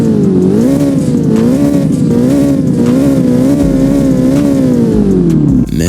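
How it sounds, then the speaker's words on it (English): A turbocharged V8 sports car revs loudly and close, its engine note rising and falling in smooth repeated swells with a steady rumbling drone, ending with a brief dip near the end. "You gotta hear those turbos."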